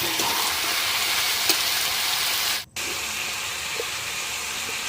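Chilli paste fries in hot oil for a Bengali chicken kosha, giving a steady bright sizzle and hiss, broken by one brief dropout, with faint stirring clicks and no talk.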